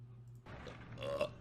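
A burp made right into a microphone, a low guttural eructation starting abruptly partway through and rumbling on close and loud, alone without talk.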